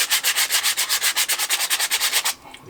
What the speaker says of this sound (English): going to sand those down, put back together, see what happens. I've got some 80 grit sandpaper.